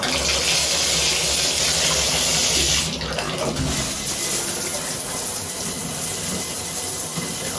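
Water runs steadily from a shower head after a leak repair, a loud, close, continuous hiss and spray that drops slightly in level partway through and keeps going without pause.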